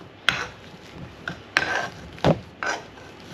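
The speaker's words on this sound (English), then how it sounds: "I'm just going to mash with this because I know what Ian's like with lumps" A masher works through an Anglesey eggs mixture of potato, leek and milk, making several sharp knocks against the bowl spaced about a second apart, each followed by a soft scraping rub, close up with no voices.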